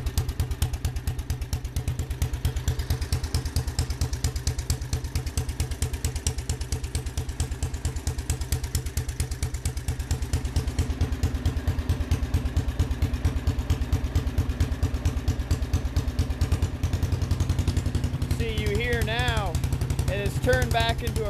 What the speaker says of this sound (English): which gives us a six stroke engine